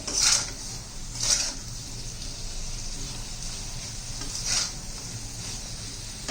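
Potato slices fry with roasted sesame seeds in a pan, sizzling steadily under a few swishing stirring strokes that scrape the pan at intervals; close and moderately loud, with no voices.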